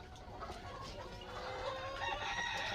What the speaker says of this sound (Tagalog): And this box, there are 3 chickens